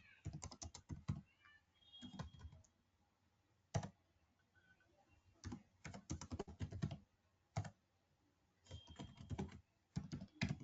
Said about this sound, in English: So I'm just typing one fake account